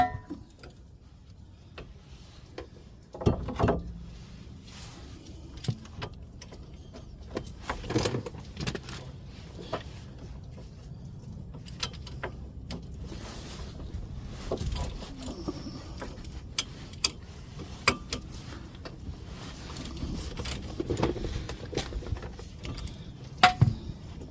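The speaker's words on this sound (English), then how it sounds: "remove the two 15mm bolts for the caliper bracket" Ratchet and socket work on the two 15mm caliper bracket bolts of a 2009 Chevy Cobalt brake job, heard as scattered metallic ticks, clinks and tool jangles over a low garage background, with no talking.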